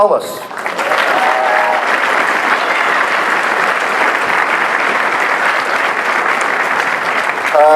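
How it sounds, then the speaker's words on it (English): Loud, sustained applause from a large convention panel audience, steady clapping filling the room for several seconds. "Thank you for that entirely undeserved applause."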